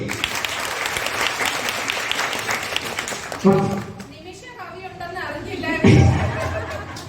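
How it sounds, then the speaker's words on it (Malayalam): An audience at a school teachers' event breaks into sustained applause, clapping filling the room, with a couple of louder surges and crowd chatter mixed in. "ഒരു ക്രിട്ടിക്കൽ കയ്യടി"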